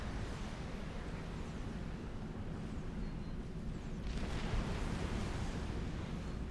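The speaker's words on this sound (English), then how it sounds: "Shells now raining down on that position." Artillery shells rain down and explode in Supreme Commander, a steady rumbling wash of blasts with a swell of louder impacts partway through, no voices over it.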